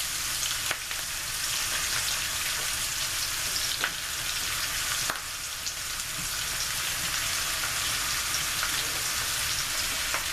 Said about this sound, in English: you're going to place your steak back in the pan along with the onions